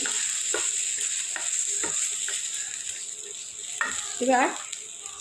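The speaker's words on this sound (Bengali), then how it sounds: "একটু ভাজা ভাজা করে নিলাম" Drumstick stalks are fried and stirred in a pan, with a steady sizzle running throughout and several scattered spoon scrapes. A louder scraping stir comes near the end.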